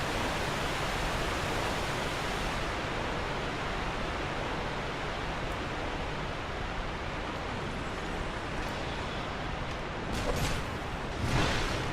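A loud waterfall in the Dark Souls 2 video game roars as a steady, dense rush of broadband noise for the whole stretch, with no voice over it.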